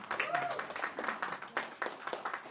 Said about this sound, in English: It deserves another round of applause.